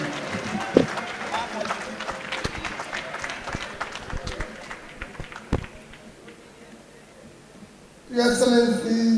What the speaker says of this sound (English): A round of applause for Peter Gregory Obi